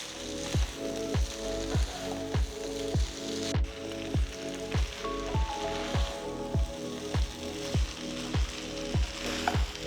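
Spicy chicken noodles tossed with sauce in a hot pan, steady sizzling broken by regular clanking tosses roughly every half second, close and alone.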